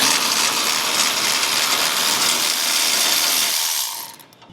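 A ratchet fitted with a 15 mm socket loosens a fuel tank strap bolt on a 2011-2026 GM Duramax 6.6L crew cab truck. It gives a loud, steady run of dense clicking up close and then stops near the end.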